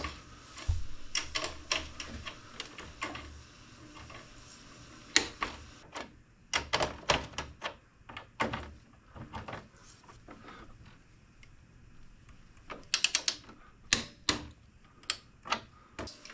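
A ratcheting torque wrench tightens lug bolts on the wiring of an EG4 18KPV hybrid inverter, giving irregular bursts of sharp metallic clicks with quieter pauses, up close.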